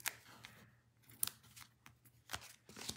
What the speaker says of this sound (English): now I'm just gonna take the adhesive backing off, off of each of these